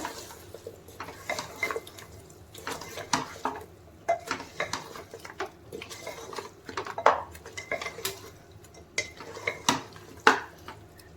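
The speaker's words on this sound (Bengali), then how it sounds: "এবারে এটা আমি ভালো করে কষে নেব মশলার সাথে" Mutton is stirred in a pot with mutton masala, biryani masala and garam masala, the spoon scraping and knocking against the metal in frequent irregular clinks, with a soft sizzle underneath.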